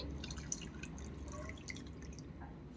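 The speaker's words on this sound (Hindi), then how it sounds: "हल्का सा बहुत गुनगुना दूध इसमें हम डालेंगे" Lukewarm milk poured into cream for homemade malai kulfi, a faint, quiet trickle with soft dripping and small splashes over a low background hum, with no talking.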